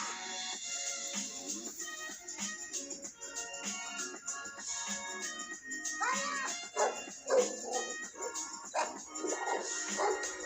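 Dogs in a film scene bark, yip and whimper amid layered soundtrack music and effects, the canine calls rising prominently in the latter half.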